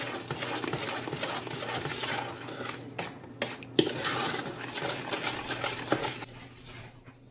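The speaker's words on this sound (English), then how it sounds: "we'll just keep this stirring for a little bit, or for a while anyway" Icing for a white chocolate cake being stirred in a pot, a spoon scraping and clinking against the metal in a steady, close rhythm, with a few sharper knocks and no talking.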